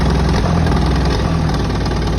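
A tractor engine runs loud and steady with the throttle applied, a close, continuous rumbling drone that fills the whole stretch.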